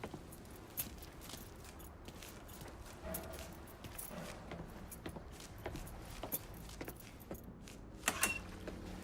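Keys jangle as they are grabbed in the crime game Mafia III, with a few small metallic clinks over steady game ambience, footsteps and background noise.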